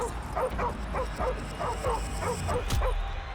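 A dog in the video game Call of Duty: Modern Warfare Remastered barks repeatedly in short, rhythmic bow-wow bursts. The barks are close and steady over a low ambient game background.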